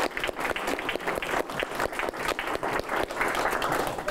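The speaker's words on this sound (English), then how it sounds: "Don't clap for me" An audience claps for a board member being introduced before a lecture on the archaeology of the Ethan Allen Homestead, dense steady applause from a room of people, fairly close, with no talking over it.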